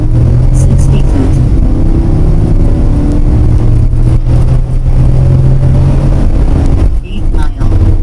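A V8 Nissan Pathfinder fitted with a Volant Powercore cold air intake accelerates hard on a quarter-mile run, its loud engine drone holding steady close to the microphone for several seconds.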